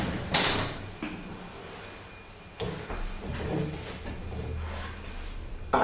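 Otis lift doors in a neglected building in Chatham, Medway, slide open and shut, giving a few distinct thuds and rattles with a quieter hum of room noise between them.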